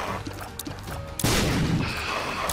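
Bombs blow up in The Binding of Isaac: Rebirth, a loud broadband burst hitting about midway and ringing out in a sustained crackling roar, after a quieter stretch of small in-game blips and pops.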